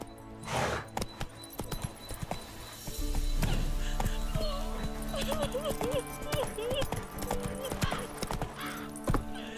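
Hooves clip-clop as the horse Roach gallops in The Witcher 3, steady and fairly close, with occasional snorts and game music, while a voice talks over the ride.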